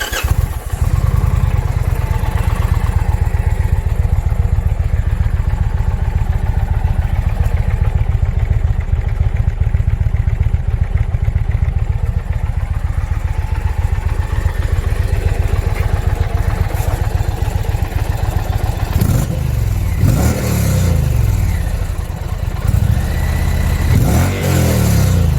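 A 2020 Indian Challenger motorcycle with its stock exhaust idles with a deep, steady, fairly quiet rumble for a long stretch, then gets several sharp throttle blips near the end that rise and fall quickly.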